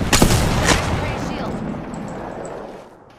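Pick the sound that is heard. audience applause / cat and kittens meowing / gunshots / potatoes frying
gunshots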